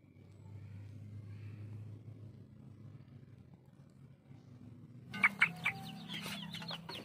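A Bangkok chicken sick with a cold gives a few soft, close clucks near the end, after several seconds of low background hum with no talking.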